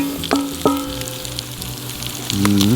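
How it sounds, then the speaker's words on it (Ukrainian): Button mushrooms and potatoes frying together in a pan give a steady hiss and sizzle, with a few sharp clinks of a utensil against the pan. "Додаємо печериці до картопля."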